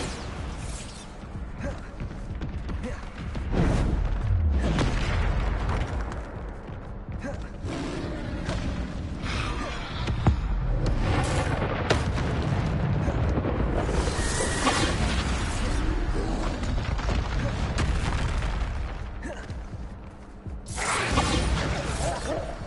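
Repeated Bombarda spell explosions in a Hogwarts video game, with loud booms, crashes, whooshes and creaking debris arriving in a sustained battle, all under busy game noise.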